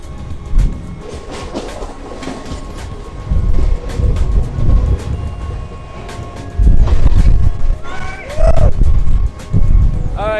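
An Indian train rumbles loudly along the tracks with rhythmic clattering bursts and a brief high squeal, heard close as the cars rock and roll.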